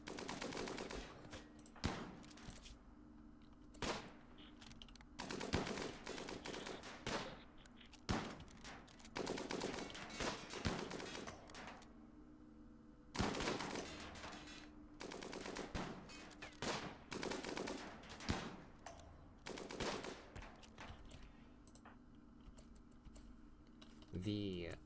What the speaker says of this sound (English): The others will push in and try and provide some suppressing fire.